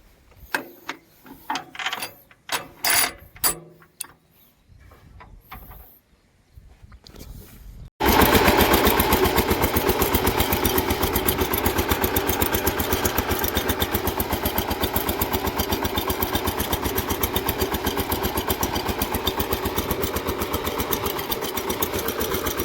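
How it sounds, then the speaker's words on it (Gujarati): A tractor cranked by hand: a few irregular clanking turns and pauses, then the engine catches and settles into a loud, steady rapid chugging idle that carries on alone for well over ten seconds. "તો અમારા હેન્ડલથી ટ્રેક્ટર ઉપડ્યા"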